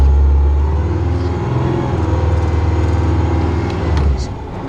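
Oshkosh M1070 HET 8x8 heavy tractor truck driving through a gate, its diesel engine a loud, steady, close low rumble throughout the whole stretch.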